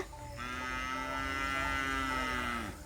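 A cow moos once in a long, steady, droning call at close range, held for about two seconds and then fading, with no voices around it.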